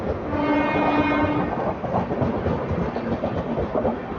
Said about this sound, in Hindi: मुंबई सेंट्रल वाया अहमदाबाद, सूरत वडोदरा भरूच के रास्ते जाने वाली डबल टेकर एक्सप्रेस।